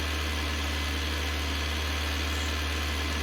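A tractor engine idles in a steady, continuous low rumble with an even vibration throughout, with no voices.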